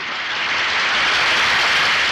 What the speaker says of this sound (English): A spontaneous clapping filled the house. The applause went on and on and on.